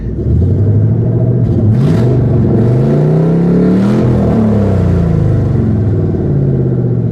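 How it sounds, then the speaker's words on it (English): A car engine with a newly installed performance exhaust revs up loudly and close by, pitch climbing and falling in a long rising roar before settling into a rumbling idle. "I do want it to warm up just a little bit before I start revving it up."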